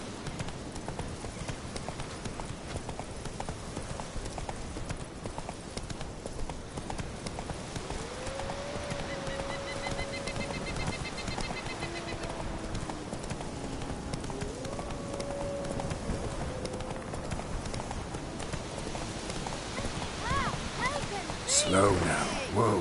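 Roach the horse gallops in The Witcher 3, hooves clip-clopping in a fast, steady rhythm throughout, close and continuous, with voices speaking over the running.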